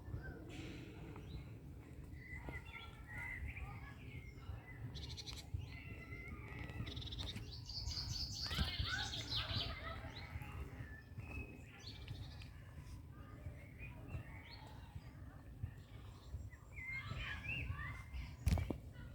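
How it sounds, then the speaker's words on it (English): Birds chirp and call intermittently in Moorside Park, Crosby, Liverpool, over a steady low rumble of background noise, with a brighter burst of song midway. "Listen to the bird song."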